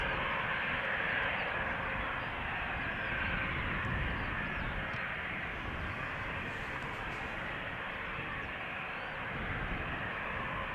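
An Embraer 190 jet departing runway 36L at Amsterdam Schiphol, heard as a steady, distant broadband engine roar that stays fairly constant and moderately faint throughout, with no talking.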